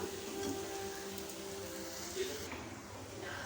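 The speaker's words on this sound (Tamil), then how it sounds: "நம்ம வதக்கினது எல்லாத்தையுமே ஒரு பிளேட்டில் கொட்டி நம்ம ஆற வச்சிடலாம்" A sautéed semolina and lentil mixture is tipped onto a plate, giving a faint, continuous granular patter like light rain, quiet and close with no other prominent sound.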